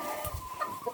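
Backyard chickens cluck softly and briefly, a couple of short low clucks close by under faint background noise.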